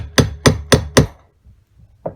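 Four sharp, evenly spaced hammer blows drive a bushing into the carburetor of a Gravely walk-behind tractor, close and loud, followed by a pause with faint handling noise and one softer final tap.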